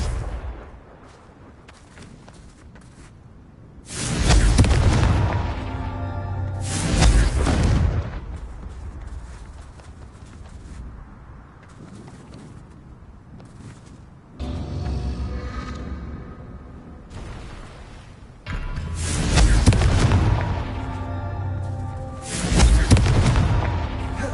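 Loud booming blasts from the Confringo explosive curse in a Harry Potter video game, four heavy bursts in two pairs, each with a rumbling tail over a steady background score.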